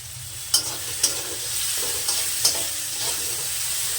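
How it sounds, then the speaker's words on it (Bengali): A spice paste with tomatoes, salt and turmeric fries in a pan for a parshe fish and pea curry, sizzling steadily up close, punctuated by a few sharp spatula knocks and scrapes. "এবার এই মশলাটাকে একটু কষে নেব"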